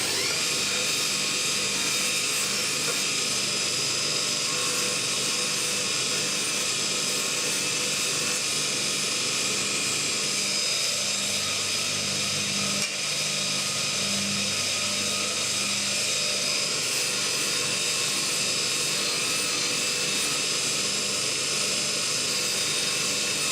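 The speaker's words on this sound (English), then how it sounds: "Let's take some burrs off." A high-speed rotary deburring tool takes burrs off metal parts on a workshop bench, a continuous loud whine running steadily throughout with a slight dip in pitch midway, close and uninterrupted.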